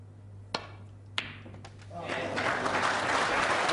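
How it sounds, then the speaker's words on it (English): A snooker audience bursts into a swelling round of applause after a long pot, rising from two sharp clicks of the balls into sustained clapping, with a commentator's voice heard early on. "John receives a terrific round of applause for that long pot"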